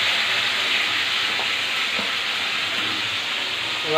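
A loud, steady hiss of sizzling fills the whole stretch as water hits a pan of fried potatoes, heard close up with no talking.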